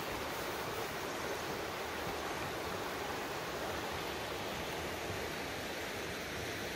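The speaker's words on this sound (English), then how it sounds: "you can hear the roar of the river and some bird song as well" The River Glaslyn at Beddgelert on a late winter walk, a steady, dense roar of rushing water that fills the scene evenly; no birdsong stands out and no one talks.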